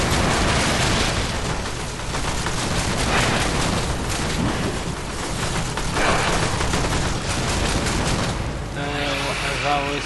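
Dense, continuous volleys of rapid gunfire from Burston rifle and Brakk pistol in Warframe during a solo Tier 3 defense mission, loud and sustained with heavy booming impacts throughout.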